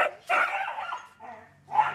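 Dogs bark and yip close by in the Coolgardie goldfields, several sharp, loud barks in quick bursts with a short whine between them, and no talk over them.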